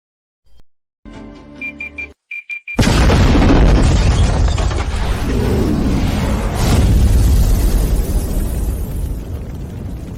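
A bomb explodes in a drama scene: after a few short knocks and blips comes a sudden, very loud boom that swells into a long, dense roar of rumble and debris lasting several seconds, with no voices.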